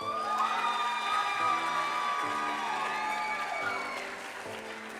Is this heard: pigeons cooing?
no